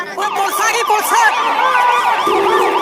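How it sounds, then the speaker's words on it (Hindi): A loud wailing police siren sweeps up and down continuously, close by, with no talking over it. "इनको सुनाई देता है पुलिस का सायरन"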